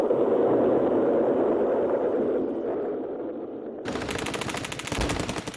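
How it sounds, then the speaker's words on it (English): Radio recording of gunfire in Baghdad at the start of the Gulf War: a dense, continuous noisy roar of distant firing, then a sudden sharper, brighter burst of rapid shots toward the end. "This was the sound of conflict in Baghdad at around midnight our time."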